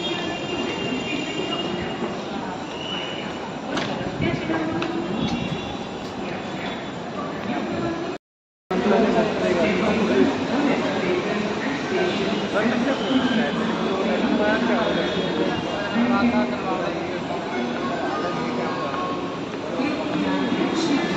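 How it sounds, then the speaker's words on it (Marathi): A Mumbai metro train pulls into Ghatkopar station with steady rumbling, rolling wheel noise and squealing, close and loud, while people talk on the platform; the sound drops out briefly once. "मेट्रो इथे येणार आहे"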